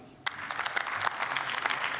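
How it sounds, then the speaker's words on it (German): Applause breaks out in the German Bundestag after a speech, a sudden onset of dense, steady clapping from many members that carries on evenly through to the end. "Applaus"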